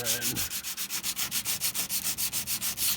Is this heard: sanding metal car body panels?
yes